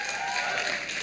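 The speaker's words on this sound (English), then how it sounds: "those of you who are clapping and screaming" Audience applause and cheering fill a large hall at a Sadhguru Youth and Truth talk at NALSAR, a steady, dense wash of clapping that holds for the whole moment without a break.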